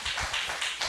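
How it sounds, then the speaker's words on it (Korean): Congregation applauding at a church revival service, a brief burst of dense, steady clapping from a crowd that fills the room with no voices over it. "자, 박수 치십니다."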